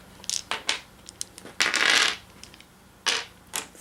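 A handful of three dice rolled during an Arkham Horror board game: quick clattering rattles and clicks in several short bursts, close and crisp, with one longer tumbling rattle in the middle.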